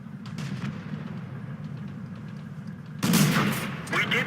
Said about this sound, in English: I take a shot at his side, and I put another shot into him